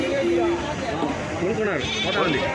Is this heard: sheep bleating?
yes